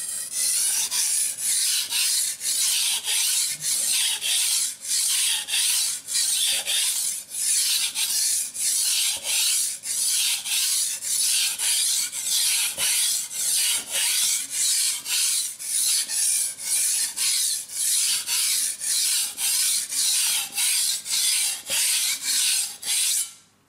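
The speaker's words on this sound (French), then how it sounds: "Elle permet de rattraper quand même la lame assez rapidement." A blade is sharpened on a Suehiro Cerax 320 Japanese water stone with steady back-and-forth strokes, a loud rhythmic gritty rasp up close that repeats about twice a second throughout.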